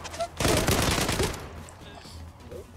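Rapid automatic gunfire in the online shooter Zula, a dense burst lasting about a second, fairly close and loud, followed by fainter game sounds, with a voice speaking briefly.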